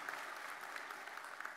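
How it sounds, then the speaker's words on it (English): Brief, steady applause from an audience at a Hall of Fame induction ceremony, honoring assistant coaches, sounding somewhat distant and quiet. "I want to give these guys a round of applause because they was big in my development"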